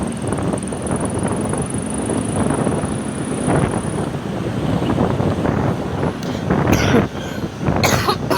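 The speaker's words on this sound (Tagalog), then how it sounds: "Puro ubo na lang." Someone coughs a few times outdoors over steady wind rumble on the microphone, with the harsh bursts clustered near the end.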